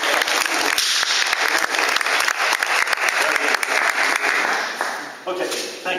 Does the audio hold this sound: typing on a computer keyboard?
no